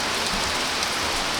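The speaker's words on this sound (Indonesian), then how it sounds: "Hujan tuh, gerimis, wow." Light drizzling rain falling outdoors during the rainy season, a soft, steady broadband hiss of fine drops on surfaces, continuous and even with no voices.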